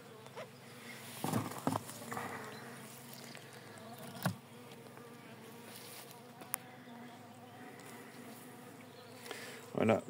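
Robber bees buzz in a steady, dense drone around an abandoned honey-laden hive, close by, with occasional knocks and rustles of frames being handled.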